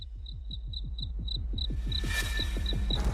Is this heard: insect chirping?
yes